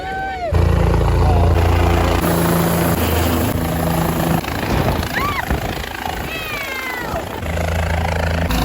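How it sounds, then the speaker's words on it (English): A helicopter thunders close overhead at a campsite, its rotor drone loud and steady, with brief voices and other outdoor noises mixed in as it passes. "Helicopter."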